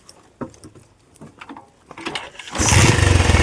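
A Bajaj Pulsar motorcycle engine on a trip to a hill site in Udayagiri mandal, Nellore district: scattered light knocks, then the engine catches at about two and a half seconds and runs loud and steady nearby.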